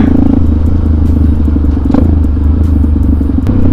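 A Scorpio motorcycle converted into a supermoto, fitted with a GRC Muffler exhaust, idles close by with a loud, steady, throbbing rumble and slight crackle, with no talking.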